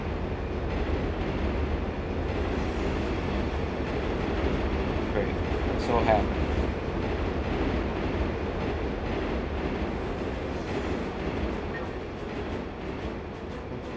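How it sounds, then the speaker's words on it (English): A subway train rumbles through a tunnel in the N64 video game Turok 3, a loud continuous low roar and clatter lasting throughout while a player speaks briefly over it. "There's a train."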